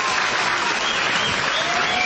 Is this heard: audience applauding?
yes